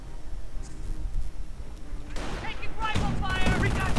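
Anti-tank cannon fire in a real-time strategy war game, American guns firing at an armored car: sharp bursts of gunfire crackle in the second half over a dense battle din, with a voice talking over it.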